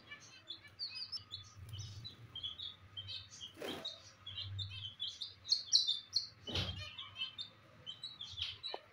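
Small birds and chicks chirp and tweet busily nearby in quick overlapping bursts, with a couple of brief rustling noises in between.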